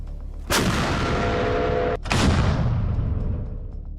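Two heavy blasts from a Russian 240mm self-propelled heavy mortar firing high-explosive rounds, each a sudden loud boom followed by a long rumbling decay, the second coming about one and a half seconds after the first.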